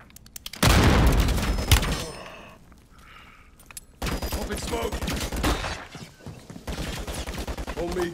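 A turret in a Call of Duty: Modern Warfare III campaign firefight hammers out loud, sustained automatic bursts at close range, broken by a brief lull, with squad voices shouting over the shooting.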